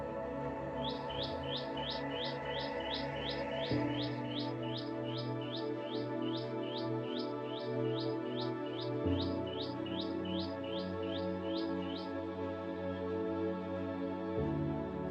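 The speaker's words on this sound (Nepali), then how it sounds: "यहाँ चरा यति चिरबिराउन थाल्यो" A bird chirps in a quick, steady series of high tweets for several seconds, then stops, over a soft continuous background hum.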